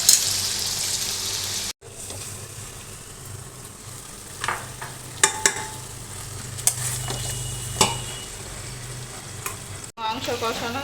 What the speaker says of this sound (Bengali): এখানে মটন কষানো হচ্ছে।